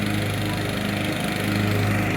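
A lawn mower runs on a homestead, its engine droning steadily and continuously at a moderate distance, loud and even throughout.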